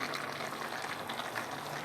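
Water leaf for Nigerian afang soup sizzles in hot red palm oil, a continuous bubbling, frying hiss that stays close and steady throughout.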